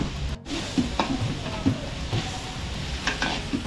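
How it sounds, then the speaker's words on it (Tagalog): Chop suey with chicken liver sautés in a pan for a catering job, sizzling steadily while a utensil stirs and scrapes in short, repeated strokes close by. "gigisa muna natin ito hanggang sa maluto yung chop suey natin"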